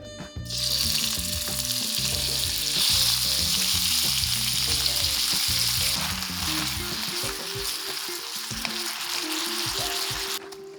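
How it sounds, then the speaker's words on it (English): Beef sautéing in olive oil, a loud dense sizzle starting abruptly and holding steady, with rhythmic low clattering of the pan and utensil throughout. "add olive oil and saute beef for 5-6 minutes"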